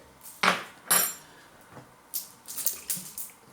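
A dish and spoon handled in a kitchen while making homemade seafood sauce, several sharp clinks and knocks of metal on crockery, spaced irregularly and close, with quiet gaps between.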